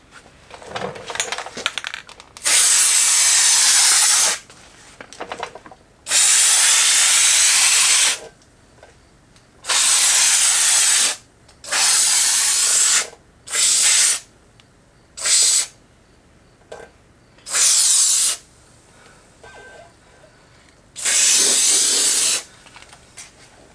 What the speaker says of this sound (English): I'm gonna spray this on the plastic and then stick it onto the panel